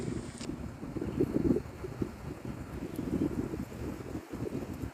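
Wind gusting outdoors on an open battlefield site, a low rushing buffet that swells and fades across the mic, with no speech heard.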